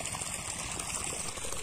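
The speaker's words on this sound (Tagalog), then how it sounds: "So ayan, ipapatubig tayo dahil kailangan naman ng tubig ngayon." Irrigation water runs steadily into a direct-seeded rice field, a continuous broad rushing and trickling with no pauses and no voices.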